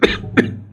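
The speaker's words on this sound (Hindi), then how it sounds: "खांसी चल गई" Two quick, sharp coughs, close and clear, with a short pause between them.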